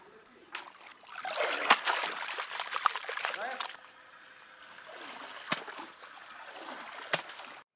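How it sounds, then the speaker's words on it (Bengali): Fish being rinsed in a home pond, with water trickling, splashing and dribbling in uneven bursts close by, alongside scattered sharp knocks and faint birdsong in the outdoor background. "পুকুরের জলে একটু হালকা করে ধুয়ে নিই, তারপরে পরিষ্কার জলে আবার ভালো করে ধুয়ে নেব।"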